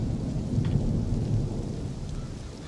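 Heavy rain pours steadily in a video game setting, a dense low rumbling wash with no voices, constant and moderately loud throughout.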